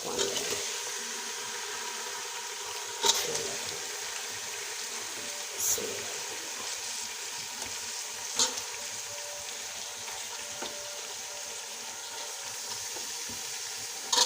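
Chicken frying in a pan for Hyderabadi biryani gives a steady close sizzle and hiss that runs throughout, broken by a few sharp clinks of a utensil against the pan.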